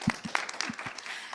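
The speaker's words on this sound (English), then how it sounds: "Round of applause" Brief applause from a small audience right after a panel discussion, with a few separate claps standing out near the start, moderately quiet and fading within a second or so.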